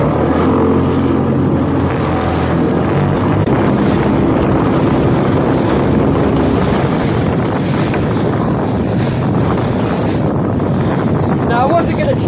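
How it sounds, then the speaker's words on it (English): Steady wind roars across the microphone out on a fishing boat at sea, a dense continuous rush with water and hull noise underneath, loud throughout. "as you may be able to hear, the wind is starting to build a little bit"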